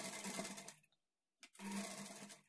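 Sewing machine stitching piping on a lining blouse in two short runs of rapid needle clatter separated by a pause of near silence.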